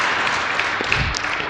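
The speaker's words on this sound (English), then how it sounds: "Can we have a round of applause for this?" Audience applause at a Republic Day celebration, a steady wash of clapping that holds at an even level for the whole short stretch, with no voices over it.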